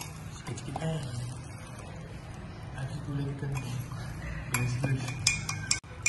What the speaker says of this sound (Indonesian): Kemudian kita aduk dengan rata.